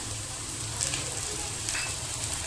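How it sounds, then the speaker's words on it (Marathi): Chopped tomato hits hot frying onions in a pan, giving a steady, dense sizzle throughout with a couple of brief louder spits, close and continuous, no voices. "त्यामध्ये आपण जो चिरून घेतलेलं मोठं एक टॅमॅटो ते घालणार आहोत"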